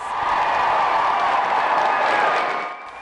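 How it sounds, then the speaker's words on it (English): A crowd at a graduation ceremony applauds the graduates, loud continuous clapping and cheering that tapers off near the end. "Then came the applause."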